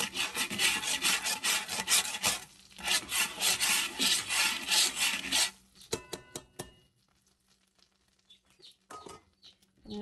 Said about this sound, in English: I'm scraping this pan just to get all those little bits of